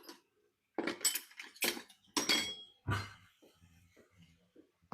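Metal cutlery clinks and rattles as a spoon is grabbed from a drawer, several bright, close clattering hits in quick succession, then softer shuffling.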